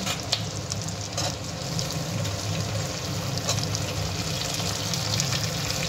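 Capsicum frying with onions that have already browned in a pan for chilli chicken, giving a steady, close sizzle throughout with no talking.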